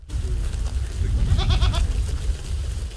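Goats bleating outdoors in a village, several wavering nasal calls clustered in the middle over a low rumble of wind and background noise, moderately close.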